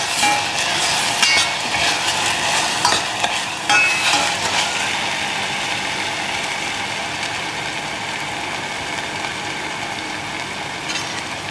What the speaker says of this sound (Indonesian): Sambil aku menumis